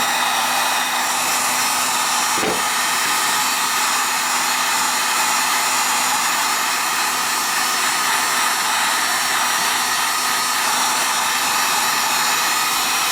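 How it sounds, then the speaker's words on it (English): A heat gun blows a loud, steady roaring whoosh while heating Frog Lube paste on metal of a knife or gun, continuous and close with a brief click early on and no talking. "When I hit it with the heat gun"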